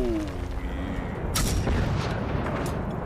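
Gunfire in the video game Generation Zero, heavy booming shots and rumbling blasts over a dense, noisy battle backdrop, with a couple of sharper cracks midway.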